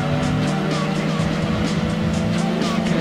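A car spins out with skidding, squealing tires in Gran Turismo 2 at Laguna Seca, the loud engine drone holding steady under the slide with no talking.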